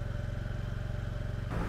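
A moped ridden along the roads of the Goto Islands in Nagasaki. Its small engine putters in a fast, even pulse close by, and the tone shifts abruptly near the end.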